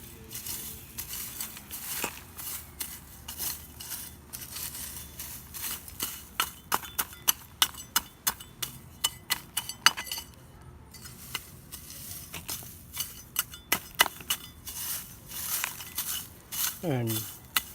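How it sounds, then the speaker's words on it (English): Loose garden dirt scraped and dropped back along a plastic flowerbed edging, heard as scattered close scuffs and crunchy impacts in an irregular rhythm over a low outdoor background. "So now I'm just putting this dirt back"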